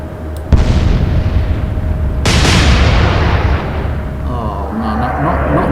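Naval guns of the cruiser HMS Newcastle firing in a World War II fleet battle video game, two loud sharp blasts about two seconds apart, each followed by a long rumbling decay.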